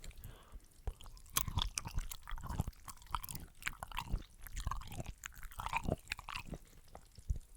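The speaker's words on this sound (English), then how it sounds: "Let's eat one of these mushrooms while we wait for it to finish melting." Close, wet chewing of mushrooms with soft crunches and squishy bites, steady mouth sounds for several seconds, no talking.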